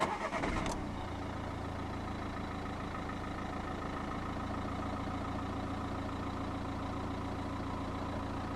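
A 2015 Nissan Juke 1.5 dCi 110 diesel with 2WD and a six-speed manual cranks briefly and fires up, then settles into a steady, close idle with a low, even clatter.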